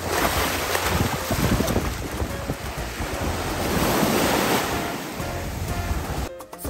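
Sea waves and surf roll and crash continuously close by, loud and wind-buffeted, a steady wash of water noise with no speech.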